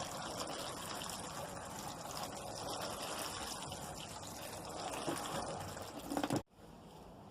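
Water gushes steadily over a beetroot seed tray for several seconds, a continuous close splashing pour that cuts off abruptly near the end, leaving a quieter hiss.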